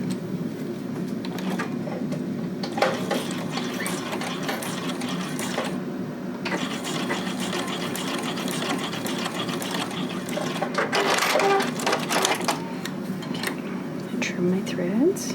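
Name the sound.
sewing machine sewing elastic seam with straight stitch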